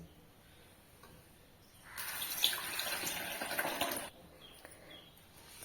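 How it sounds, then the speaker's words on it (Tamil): Pearl millet grains are swished and rinsed in water in a pot, producing about two seconds of steady splashing and sloshing over a quiet background. "ஒரு 2 டைம் நல்லா கழுவி எடுத்துருவோம்"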